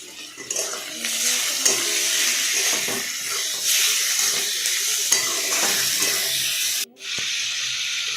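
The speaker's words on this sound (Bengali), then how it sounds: "চিকেনটাকে দিয়ে দিলাম, দিয়ে ভালো করে ভেজে নিলাম।" Chicken pieces fry in a pan for a chana dal egg chicken tarka, a loud, steady close sizzle with scraping stirs throughout and a brief drop near the end before the hiss resumes.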